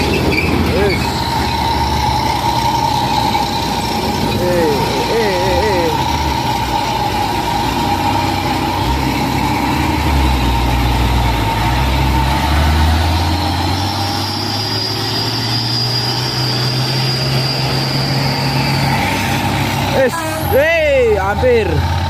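Heavy trucks labour up the steep Bukit Kodok climb, their engines droning loudly with rising and falling gear whine, an air-brake hiss, and another vehicle squeezing past between them.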